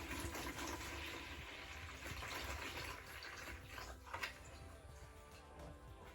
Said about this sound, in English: I'm going to pour some water in there first real quick